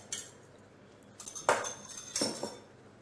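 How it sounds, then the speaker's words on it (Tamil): Two eggs are lightly beaten in a bowl for chocolate cake batter. A few quiet, scattered clinks of utensil against dish stand out over near silence, with no speech. "இதோட நம்ம 2 முட்டை எடுத்து வச்சுருக்கோம் இல்லையா, அதை லைட்டாக பீட் பண்ணிவிட்டு இதோட சேர்த்துடலாம்"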